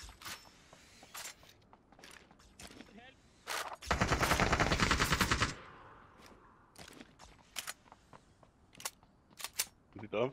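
Rapid automatic gunfire in the battle royale game PUBG, a sharp rattling burst of shots fairly close, mixed with scattered single cracks and game noises while someone talks over it.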